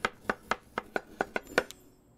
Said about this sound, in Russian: Сначала нужно нарезать.